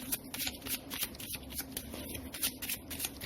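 Tarot-style cards shuffled by hand before a reading, a close, continuous riffle of crisp papery flicks and slaps in a quick uneven rhythm, with no voice over them.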